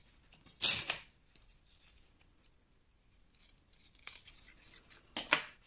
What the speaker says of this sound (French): pour le ruban, alors je vais couper un morceau, voilà, de façon à pouvoir faire un nœud